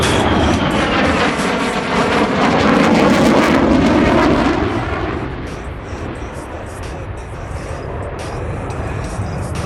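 A USAF F-35A Lightning II fighter jet roars past at the Oregon International Airshow, loud broadband engine thunder peaking then fading into a distant rumble, with a faint announcer voice beneath.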